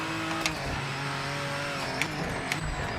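A race car engine in a racing video game holds a steady high whine, with brief shifts and small bumps as the pitch dips and climbs again.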